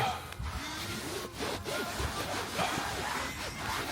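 Brush scrubbing cleaner into car seat upholstery, a steady rough rubbing texture with short strokes, close and moderately loud with no talking.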